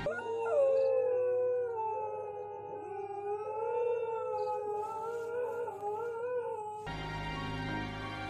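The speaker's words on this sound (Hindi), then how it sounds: "बाहर कुछ कुत्ते रो रहे थे।" Dogs howl outside at night in long, wavering, mournful tones, several voices overlapping at moderate distance and continuing for several seconds.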